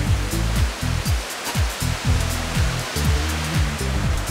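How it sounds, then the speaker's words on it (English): Steady rushing roar of a waterfall on a river, broadband water noise filling the whole clip at a constant loud level with no voices. "We'll have Ryan drop an orange from the top of the waterfall."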